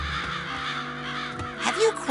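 Crows caw in the video game Psychonauts, their harsh calls sounding over a talking voice, with a louder burst near the end.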